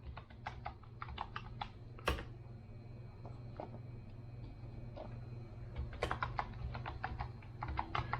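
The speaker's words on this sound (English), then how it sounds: "I guess I need to type that correctly" A password being entered on a computer keyboard during a Linux Mint install on a workstation, with irregular clusters of close, crisp key clicks and a faint steady hum beneath, no speech.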